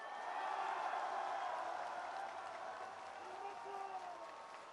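A crowd applauds faintly and steadily at a homecoming event at Bongha Village, with sustained, even clapping heard from a distance.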